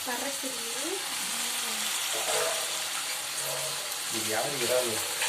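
Prawns sizzling in a pan with onion and tomato, a steady frying hiss throughout with a scrape or two of stirring, while voices talk over it.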